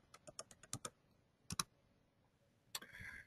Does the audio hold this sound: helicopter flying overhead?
no